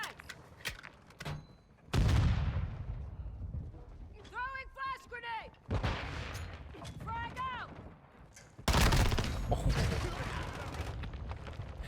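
Rapid SMG bursts from a VEL 46 (HK MP7) in Call of Duty Modern Warfare 2, loud close volleys in several separate strings, with game effects and someone talking between them.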